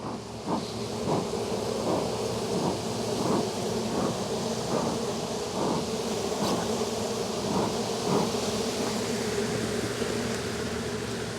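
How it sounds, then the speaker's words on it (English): A dense, steady buzz of many honeybees around a hive fills the air, close and continuous, with a constant droning hum throughout. "so many bees all over the place."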